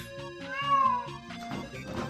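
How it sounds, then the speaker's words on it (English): A pet cat named Jonathan gives a series of drawn-out, wavering meows, close and fairly loud, rising and falling in pitch before trailing into a rougher, complaining cry, with no talk over it. "That's how Jonathan meows when he has to go into his cage."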